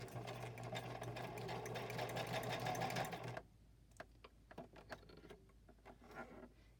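A domestic sewing machine stitching zigzags, a close, steady whirring hum of rapid stitches for about three seconds, then stopping and giving way to scattered clicks and handling taps.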